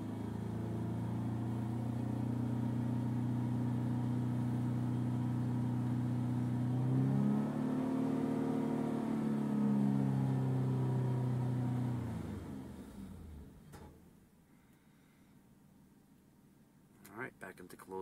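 A car engine revs as the gas pedal is pressed while data is logged for fuel trim readings, a steady low rumble swelling and pitching up midway before dropping off to a quieter idle near the end.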